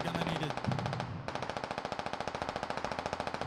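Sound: automatic gunfire in a video game

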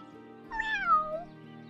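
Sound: cat meowing in the video game Wylde Flowers

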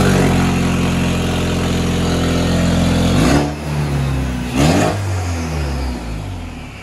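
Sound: turbocharged swapped car engine revving

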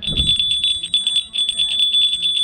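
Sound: doorbell ringing at a horse training center

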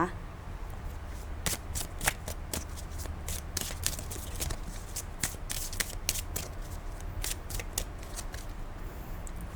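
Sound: tarot cards being shuffled

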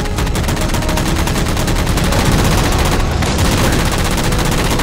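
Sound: gunfire shooting down jammers in video game Halo 4

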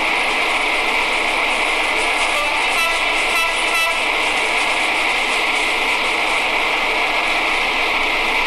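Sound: train moving in a video game, Train Sim

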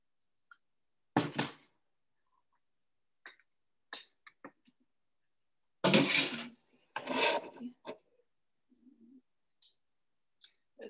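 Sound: small hand whisk mixing an herbal drink

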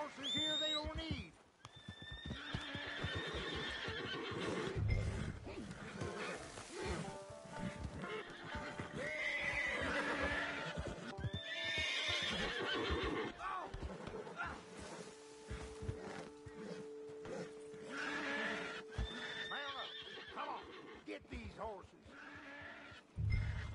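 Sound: horses neighing and hooves clip-clopping

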